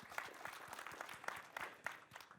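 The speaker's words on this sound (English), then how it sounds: "another round of applause for him" Light, fairly faint applause from a conference audience at a Berlin tech event's panel session, individual claps distinctly audible in an irregular patter.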